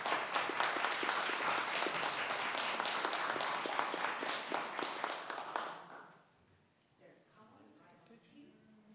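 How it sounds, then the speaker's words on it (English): An audience at a city council meeting claps in sustained, dense applause for about six seconds before it fades out, followed by quiet room tone and a voice starting to speak. "Let's give her a round of applause."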